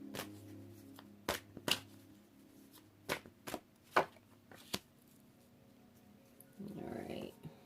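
Tarot cards being shuffled, a run of sharp riffling snaps and flutters at close range with pauses in between, and a soft voice talking over part of it.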